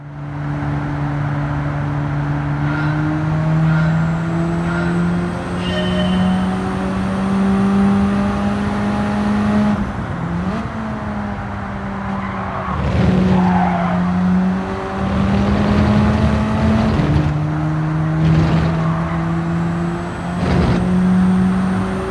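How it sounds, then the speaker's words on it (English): A race car at full throttle through an S-bend at Barcelona in Gran Turismo 7, with a steady high engine drone rising and falling through gear changes and bursts of tire squeal. It sounds close and loud, with no talk. "Flat out on the throttle over the S with one set of tyres almost off the track"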